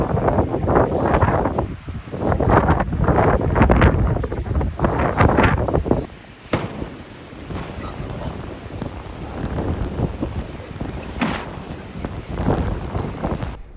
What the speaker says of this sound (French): surtout qu'il est rafaleux le vent aujourd'hui